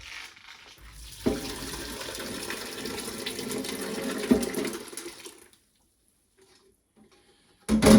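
Water pours and gushes steadily for several seconds as it drains from homemade paneer, then stops into near silence before a brief splashy clatter at the end.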